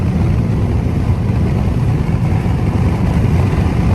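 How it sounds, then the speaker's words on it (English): Idling engine buzz from a car at a standstill beside a Ram TRX truck: a loud, steady, dense low rumble and drone holding evenly throughout, with no talk. "Can you hear that buzz out of that shit engine?"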